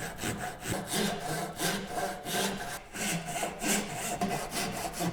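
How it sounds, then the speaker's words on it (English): A crosscut saw rasps through wood to cut a lap joint in steady back-and-forth strokes, about ten rhythmic passes, close and clear with no talking. "I've got my crosscut saw here, and I'm going to cut to the knife line about 1 millimeter away from it"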